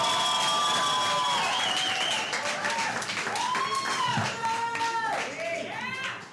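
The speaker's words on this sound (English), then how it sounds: "please give a big round of applause, nice and loud, for Effie" An audience at a comedy show applauds loudly and steadily, a dense wash of clapping with cheers and whistles rising through it.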